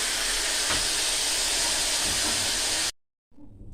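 Steady loud hissing and bubbling of a pot of rice on the boil fills most of the clip, then stops suddenly before faint noise returns.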